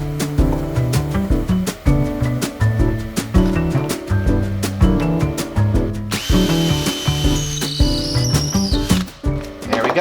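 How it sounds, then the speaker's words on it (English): A power drill whirs in repeated short bursts, stopping and restarting with a steady motor whine as it bores through material, close up. "next we're gonna drill the exit hole"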